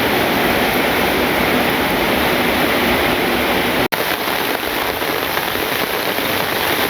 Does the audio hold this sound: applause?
no